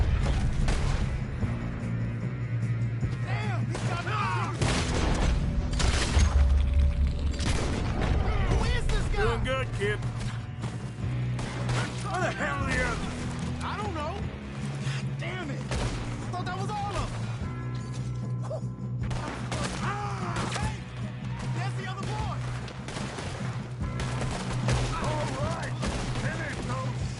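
Gunfire from a Red Dead Redemption 2 shootout: scattered shots and crashes keep going over a steady game soundtrack, with characters talking throughout.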